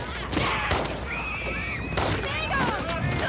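Horse in The Last of Us Part II whinnying in several shrill, wavering calls amid game combat noise, with a player talking over it.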